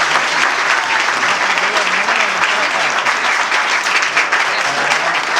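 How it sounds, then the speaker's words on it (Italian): Loud, continuous applause from a gathering of a Juventus supporters' club, a thick, sustained clatter of many hands close by with faint crowd murmur mixed in. "ti dico un grande applauso"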